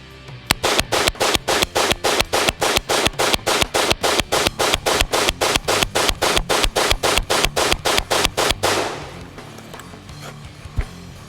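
Rifle emptying a 30-round TSD Combat Systems magazine in rapid, evenly spaced shots, loud and close, a long unbroken string of cracks that stops abruptly and leaves a brief ringing tail.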